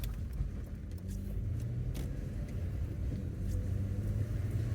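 Low, steady engine rumble and intake drone inside a moving car, faint and even, with soft road noise and no talk.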